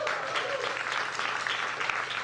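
A live audience claps continuously and fairly loudly through the whole moment, a dense, even patter of many hands.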